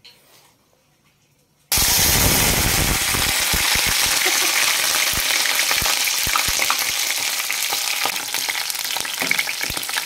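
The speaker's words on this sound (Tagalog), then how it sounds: "Bali piprituin lang po natin yan mga kuragon, pati yung okra po." Loud, steady sizzling of fish and okra frying in hot oil starts abruptly after a short quiet moment and continues with crackles and pops.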